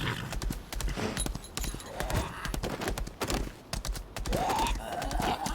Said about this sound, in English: We're jumping on this horse.